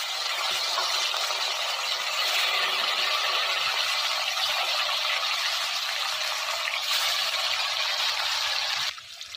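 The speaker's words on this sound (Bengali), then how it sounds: "উল্টে পাল্টে লাল লাল করে ভেজে নেব।" Fish sizzling and frying in hot oil in a wok, a steady loud hiss and crackle that continues throughout and then drops away sharply near the end.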